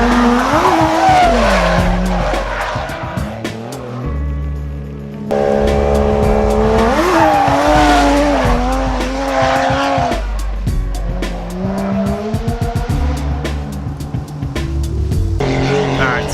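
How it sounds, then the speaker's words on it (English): Cars drifting on a race circuit in Japan, engines roaring and revving with long, loud tire squeals that rise and fall across several passes, close and continuous with faint voices mixed in. "We're going to film some other people drifting."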